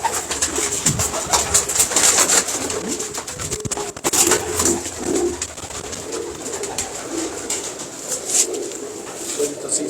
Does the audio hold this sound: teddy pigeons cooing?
yes